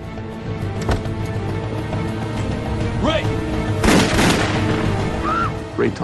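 Several sharp, loud bangs of gunshots aboard the airliner on PSA Flight 1771 ring out over a steady background rumble, with a burst of noise clustered near the middle.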